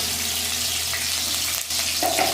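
Garlic and ginger paste frying in hot oil for chilli chicken gives a steady, close sizzle with a brief dip and then a brighter burst of hissing near the end; no one speaks.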